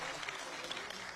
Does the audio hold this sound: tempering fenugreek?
no